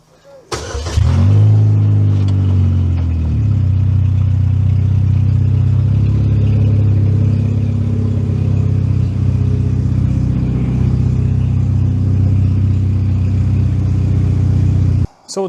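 A project car with a rough rear end, still full of issues, cranks and fires up, then idles and revs at a steady mid-pitched drone, close and loud, as it is driven back into the garage.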